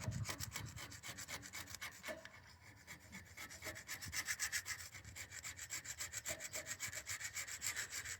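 Hard carbon deposits are scraped off an old tractor engine surface near the valves, a rapid rhythmic rasping of repeated short strokes, close and fairly quiet, alone without talk.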